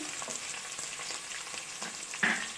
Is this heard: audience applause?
no